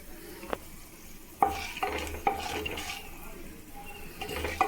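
Curry leaves, chana dal and urad dal sizzle in hot oil in a pan for mint rice, with a steady frying hiss broken by several clinks and scrapes of a spoon stirring against the pan.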